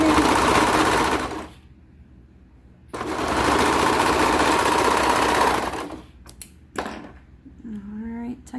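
A sewing machine stitches footie leggings in two long, loud bursts of rapid, steady whirring with a quiet gap between them, followed by a few clicks and a brief voice at the end.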